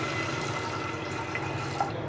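Water pours into a pressure cooker holding chana dal for kheer, a soft steady splashing and trickling up close, with no talk over it.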